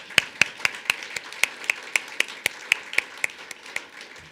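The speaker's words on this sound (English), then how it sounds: "Just give them a round of applause." Steady, evenly spaced hand claps ring out alone, about three per second, crisp and fairly close, like a single person clapping in rhythm, at a university State of the University address.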